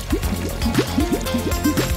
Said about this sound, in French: Puis rincez à l'eau chaude.